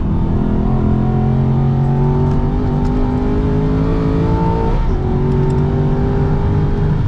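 An Aston Martin V8 Vantage GT4 race car's V8 engine pulls hard through the gears on track, a loud continuous in-car roar climbing in pitch with a brief dip at a gear change into fifth.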